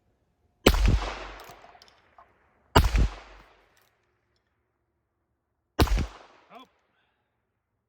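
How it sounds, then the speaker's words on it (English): Three sharp, loud .22 LR shots from an H&R 686 revolver fired at paint cans outdoors, spaced a couple of seconds apart, each with a short decaying echo; a voice briefly exclaims once. "I have some paint cans set up. Let's shoot them."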